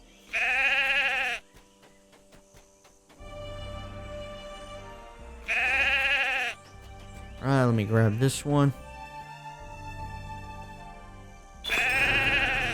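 Sheep in the game LOTRO bleat in several loud, wavering calls spaced across the scene, with a person talking briefly between them.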